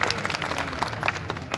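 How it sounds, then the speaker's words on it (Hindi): Audience clapping at a Hindi poetry recital (kavi sammelan) in Bareilly, a steady, moderately loud patter of many hands lasting briefly with no voices over it. "तालियां कमजोर है आपकी"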